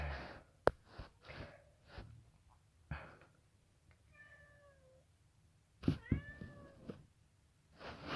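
A cat meows several times in short, rising calls, close by, with soft thumps and quiet handling noises in between.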